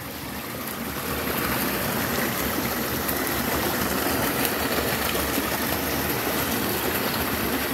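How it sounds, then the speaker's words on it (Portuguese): Steady broadband rush of a strong stream flowing through a rural smallholding near Castro, Paraná, Brazil, close and continuous with no speech. "Tá conseguindo escutar aí o barulho da força da água, pessoal?"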